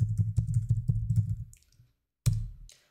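Quick bursts of keystrokes on a computer keyboard, close and crisp, a rapid run of clicks trailing off into silence before one final firm key press, like hitting Enter.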